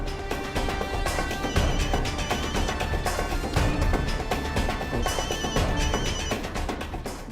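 A telephone rings loudly and steadily for several seconds, a continuous electronic ringtone with a repeating pattern and no voices over it.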